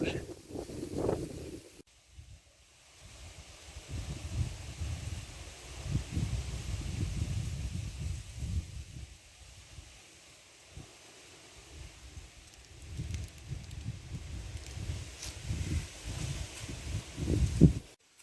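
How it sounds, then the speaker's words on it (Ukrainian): Strong gusty wind buffets the microphone in low rumbling surges that rise and fall, with a brief lull in between, outdoors in a garden on a warm day. "Вітер жахливий, хоча тепло."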